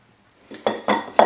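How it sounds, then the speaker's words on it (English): A utensil stirs flour, wholemeal flour, baking soda and baking powder in a bowl, giving three clear scraping, knocking strokes against the bowl in quick succession, close and fairly loud. "And we just mix it all together."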